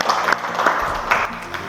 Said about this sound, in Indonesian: Tepuk tangan dulu untuk Wahyu